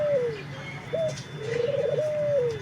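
A dove, a pigeon-like bird, coos repeatedly from a rooftop garden, soft rising-and-falling calls at moderate distance over a quiet background with a faint low hum.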